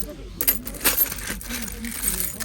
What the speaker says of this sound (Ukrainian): Будь ласка, монетки.